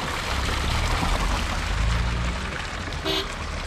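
Mountain spring water pours and splashes steadily in a continuous rushing stream, close by and fairly loud.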